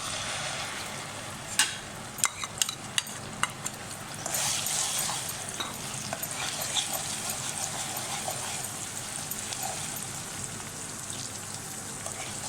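Soft frying sizzle of ground onions in a pan with scattered stirring clicks early on, then a steady hiss of cooking, fairly quiet with no talking.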